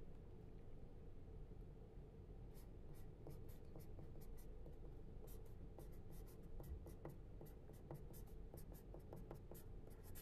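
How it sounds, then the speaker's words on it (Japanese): A pen writing names on paper, light scratchy strokes ticking in irregular quick clusters over a steady low background hum, close but faint. "こっちに名前書いて30本。"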